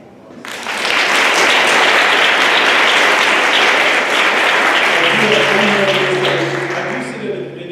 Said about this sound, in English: this group right here deserves one more round of applause